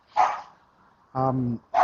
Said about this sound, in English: Nothing worse than a yappy dog.